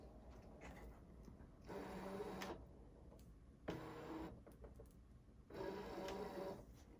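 A vinyl cutting machine feeding a sheet of vinyl in, giving faint mechanical whirring bursts of motor and roller movement separated by quieter gaps, with no talk.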